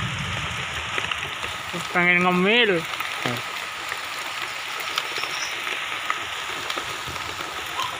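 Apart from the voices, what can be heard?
rain falling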